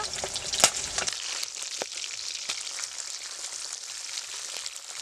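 Pieces of pabda fish fry in hot oil, a close, even sizzle with a bright crackle near the start and scattered pops and spits throughout, no voices.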